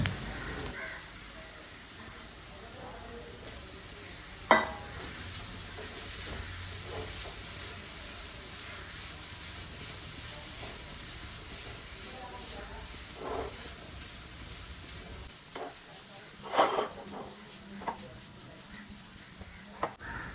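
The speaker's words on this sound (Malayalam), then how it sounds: "അതും കൂടി ചേർത്ത് കൊടുത്തിട്ടൊന്ന് ഇതിൻ്റെ പച്ചമണം പോകുന്നത് വരെ ഒന്ന് വറുത്ത് കൊടുക്കുക." Grated coconut and banana roast in a hot pan while being stirred, giving a quiet, continuous sizzling hiss broken by a few soft scrapes and clicks from the stirring.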